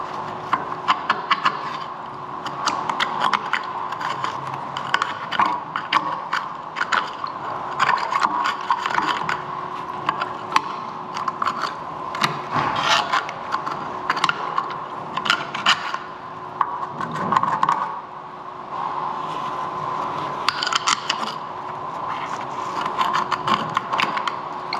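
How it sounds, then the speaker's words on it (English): A screwdriver scrapes and scoops limescale deposits out from under a cover during descaling, with a gloved hand working it. The result is a steady stream of close, gritty scratching and small clicking knocks that runs for the whole stretch with no talk. "So I'm going to scrape it around with the screwdriver"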